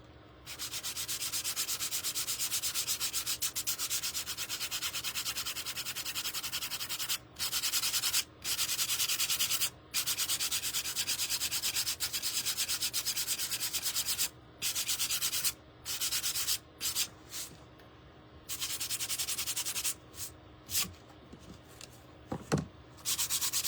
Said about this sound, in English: But I wanna sand this out a little bit first.